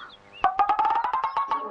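Chickens cluck in a rapid series of short, loud calls close by, one bird's voice running through a quick rhythmic burst with no talk.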